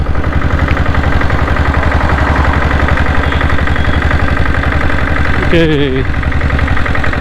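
A diesel Bullet motorcycle with a 7.5HP engine idles close by in neutral, a loud, steady rapid thumping throb running throughout, while someone speaks briefly over it near the end.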